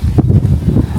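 Strong wind buffeting the microphone outdoors in freezing, snowy weather, a low continuous roar with gusty rumbles throughout.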